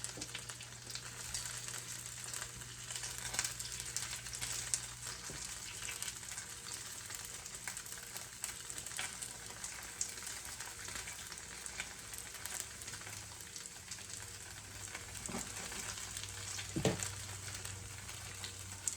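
Korean dumplings fry in a pan with a steady, moderately quiet sizzle and crackle that continues evenly throughout, with a few small pops and clinks.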